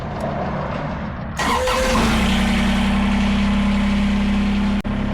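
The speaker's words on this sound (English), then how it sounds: "Turn your tractor on." A Kubota BX23S tractor engine cranks, catches and settles into a steady, loud idle with a constant droning hum, briefly cutting out near the end.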